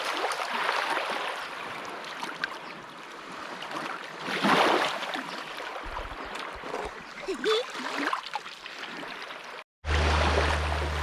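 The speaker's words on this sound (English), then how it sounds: "crossing this little river mouth here or something like that. Water flowing from up there." Steady rushing of water at a small river mouth on Nacula Island, Fiji, a broad continuous wash filling the scene, loud and close, with no talk over it.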